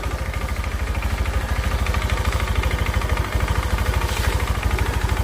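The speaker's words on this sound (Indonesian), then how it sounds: "kita dengarkan sama-sama dari suara mesinnya" A Honda Beat FI motorcycle engine idles steadily after repairs for rough running and smoky exhaust, a continuous even pulsing putter heard close and loud with no talk.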